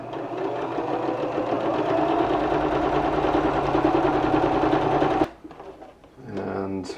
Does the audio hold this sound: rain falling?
no